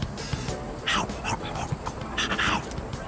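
A dog in Persona 3 Reload gives soft whimpers and a few yips, short bright bursts over steady game background sound and music.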